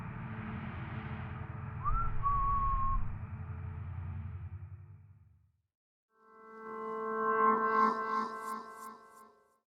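A thin, eerie whistle glides through a low droning ambience, then fades into silence before a swelling, echoing tonal wash with faint high whistles returns.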